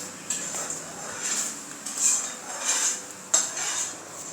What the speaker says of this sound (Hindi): थोड़े बहुत बर्तन धो लेते हैं, मशीन के अंदर डाल देते हैं, बर्तन धुल जाएंगे।